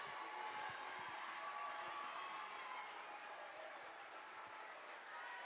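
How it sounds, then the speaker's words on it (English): A crowd at a women's volleyball match in Thompson-Boling Arena roars and cheers steadily with scattered claps, a dense, sustained din heard from within the stands. "Crowd on its feet in Thompson Bowling."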